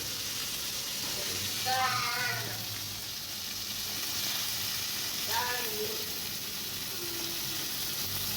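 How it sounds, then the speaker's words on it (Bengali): Hilsa fish heads fry in a pan of oil with a steady, even sizzling hiss throughout, broken twice by short tonal bleat-like calls in the background. "মাথাগুলো ভেজে নেবে"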